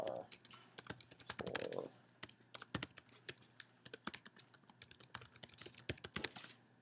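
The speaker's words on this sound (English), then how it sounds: "When you click enter, when you type enter in your address bar" Rapid clacking of computer keyboard keys, close and crisp, with bursts of quick keystrokes and short pauses; a voice speaks briefly in the background.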